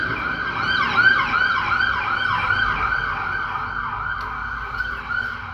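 Wailing police siren at a subway station elevator, rising and falling in repeated sweeps, loud and steady over low background rumble with no talking.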